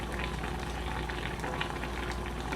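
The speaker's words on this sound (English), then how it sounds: "I don't know why it's bubbling so high, but I have it on low." Okra and fish broth bubbles in a pot over low heat, a steady, dense, close simmering hiss that runs unbroken without any voices.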